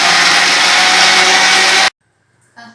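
Mixer grinder blending orange juice with black salt, chaat masala and ice, a loud, harsh, steady whirring roar that cuts off abruptly after about two seconds and is followed by silence and a brief faint sound.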